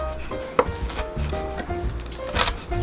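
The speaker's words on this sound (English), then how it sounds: "Slice your bacon thinly" A knife slicing bacon thinly on a cutting board, a few light irregular taps and cuts, close and moderately quiet with no talking.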